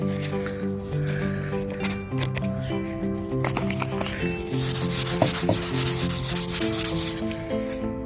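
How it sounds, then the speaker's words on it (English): A toilet seat being sanded by hand with fine P400 sandpaper, giving steady close rubbing strokes under a layer of tonal background music, the scraping growing denser and more rhythmic toward the end. "We got it all sanded down, got the shininess all removed."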